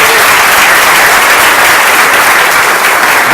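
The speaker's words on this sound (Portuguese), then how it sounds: "Vamos aplaudir a Jesus pela vida do Paulinho." A church congregation breaks into loud, dense applause, a continuous roar of many hands clapping close and sustained from start to finish.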